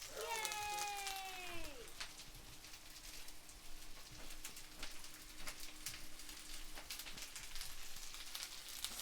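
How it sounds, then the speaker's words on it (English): Steady crackling sizzle of butter frying in a pan, faint and continuous, with a brief voice-like tone at the start. "do you hear those sizzles?"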